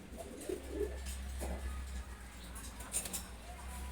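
A male ghiya chulli pigeon, a full-grown adult, gives a few soft low coos close by over a faint steady hum, with brief quiet chirps in the background.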